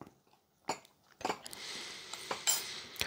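A spoon stirring chikoo halwa in a bowl, with a few sharp clinks and scrapes against the dish separated by short quiet gaps, close and fairly soft.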